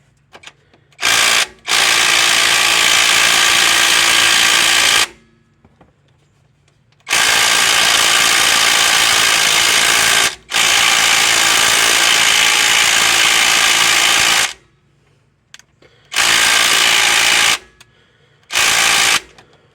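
A small impact wrench works on a Ford Focus transmission during removal, firing in several long, loud bursts of buzzing hammering with short quiet gaps between, close and with no talking.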